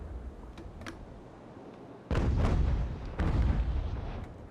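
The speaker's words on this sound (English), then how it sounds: "Grape shot from the carronades." Carronades aboard a sailing warship fire grape shot in Ultimate Admiral: Age of Sail, two heavy booming blasts in quick succession, each a loud rumbling roar rising over faint ambient sea and battle noise.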